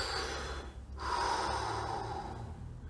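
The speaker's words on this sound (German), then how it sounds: "einfach weiter atmen in den Bereich und locker lassen" Slow, audible breathing from a person during a relaxation exercise, one long soft breath fading in and out, close and quiet with no talking.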